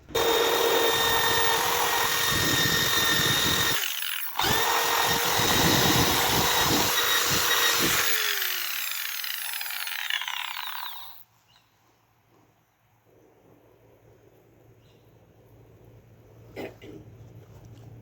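A power tool polishes the scratched plastic face of a tachometer gauge on a second pass, a loud, steady whirring drone that briefly cuts out, then winds down and stops, leaving near silence and faint handling.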